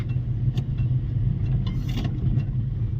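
A car engine rumbles low and steady at close range while a learner driver shifts into second gear during a driving lesson, with a slight rise in revs and no talking.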